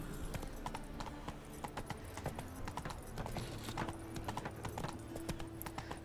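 A horse gallops in The Witcher 3: Wild Hunt, its rapid, rhythmic hoofbeats clip-clopping steadily and fairly quietly alongside faint game music.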